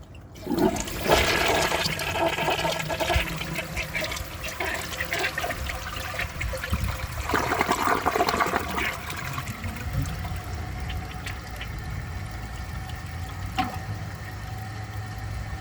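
A 1964 Sears toilet flushing with a dish towel in the bowl, a loud close rush of water that drains and gurgles, then settles into a steady trickle as the tank refills, with no talking.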